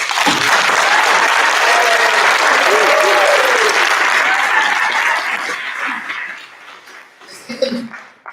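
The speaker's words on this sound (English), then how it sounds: "I'd like a round of applause for them." A conference audience at the UBI Nordic concluding session applauds the organizers, a full burst of clapping that fades away after about five seconds into quieter room noise.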